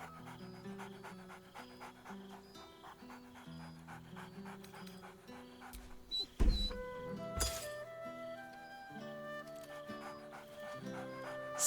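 Dog in the Baldur's Gate 3 video game, mostly quick panting and excited breathing rather than clear barks, close, set against a soft musical score with a brief clink partway through.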